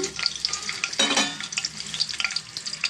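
Ingredients frying in a pan for chicken curry, a loud close sizzle with stirring scrapes and crackles throughout, no voices.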